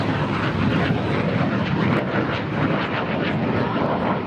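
MiG-17F jet making a high-speed pass at a 2016 air show at MacDill, a loud, sustained broadband engine roar that holds steady throughout with no talk.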